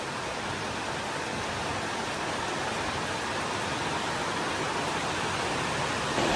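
Steady, even rain hiss in Davao, Philippines fills the whole stretch without letup, dense and unchanging, with no voices.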